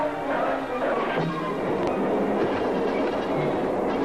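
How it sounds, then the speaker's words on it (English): A steam locomotive in a chase rumbles along the rails with a steady, dense roar and faint rhythmic clatter, heard fairly close and continuous throughout, with no distinct voices. "The locomotive chase starts all over again in the opposite direction."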